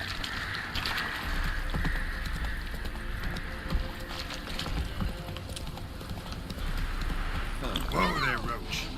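Geralt's horse Roach trotting in The Witcher 3, steady clip-clop hoofbeats running continuously beneath a voice and game ambience, with a brief sharper burst near the end.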